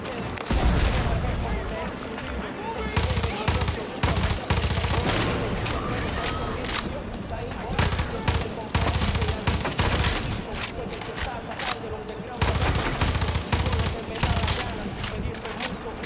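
Sustained automatic gunfire and explosions in the video game Far Cry 6, loud dense bursts and booms nearly continuous for the whole stretch with brief pauses.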